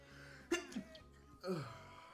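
A single person sneezes twice, close and fairly soft, two short bursts about a second apart.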